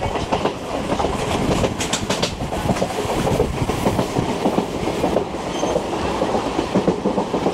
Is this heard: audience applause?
no